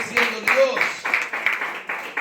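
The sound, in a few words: congregation clapping loudly in church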